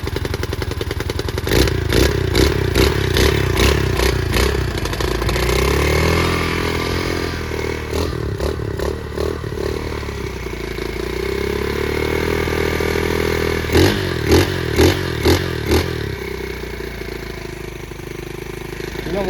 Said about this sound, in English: What a good motor is this. But let it warm up for a minute.